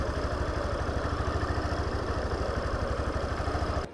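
A motorcycle engine, throttle held steady through a curve, runs with a throaty, pulsing sound that holds at a near, constant loudness before cutting off abruptly at the end.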